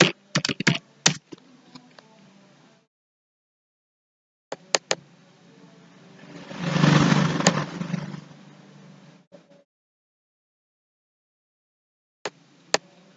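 Close key taps on a computer keyboard as an IP address is entered, a few quick clicks at the start and end around a swelling low rumble in the middle.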